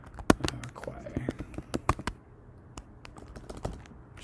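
Typing on a computer keyboard in Microsoft Word, a quick run of close, sharp key taps in irregular bursts, with soft speech in the background.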